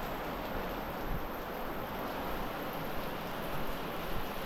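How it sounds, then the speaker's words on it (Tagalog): Heavy rain pours down steadily as an even, dense hiss that fills the whole stretch, fairly faint overall, with no speech. "Grabe lakas po ng ulan"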